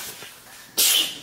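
A single sharp sneeze bursts out near the end, loud and close after a quiet indoor stretch at a family Easter gathering.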